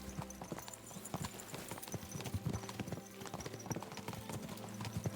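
Horse hooves clip-clop in a steady walking rhythm on a road in the medieval video game Kingdom Come: Deliverance II, with faint background ambience and no talk.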